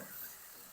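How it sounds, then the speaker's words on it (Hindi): Garlic and ginger fry in a pan for an egg bhurji gravy, a soft, steady sizzle heard alone for a brief moment. "लहसुन अदरक को भी अच्छी तरह से भून लेंगे"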